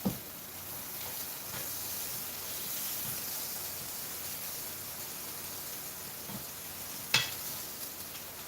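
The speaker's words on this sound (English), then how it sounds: "We'll quickly flip our Beyond Breakfast round sausages." Vegan Beyond Breakfast round sausages sizzle steadily in a hot pan, a constant close hiss with a few soft clicks and one sharp clack as they are flipped.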